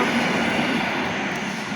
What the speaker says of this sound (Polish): przelot pociągu Intercity Malczewski prawdopodobnie